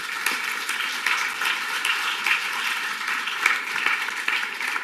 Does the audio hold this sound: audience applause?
yes